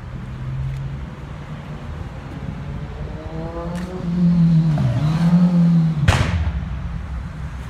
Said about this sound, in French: Ah, ces bruits de moteur, je les supporte plus.